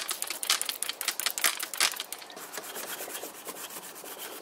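Scraping RTV silicone sealant residue off a transfer case part being cleaned before new seals go in: a steady series of close, rough rasping strokes, harsher at first and then settling into a softer, even rhythm, with no talking.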